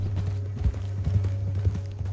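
Horse hooves clip-clop in a steady walking rhythm in Red Dead Redemption 2, moderately close, over a low engine-like background hum and a faint voice.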